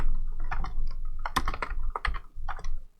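Close, crisp keystrokes on a computer keyboard, tapped in short irregular bursts with small gaps, sharp clicks and thuds alone with no talk.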